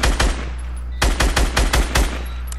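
Rapid bursts of automatic gunfire in a Fortnite match, one short burst at the start then a run of six evenly spaced loud shots, close and punchy over a steady game background hum.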